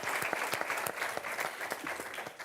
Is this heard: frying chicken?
no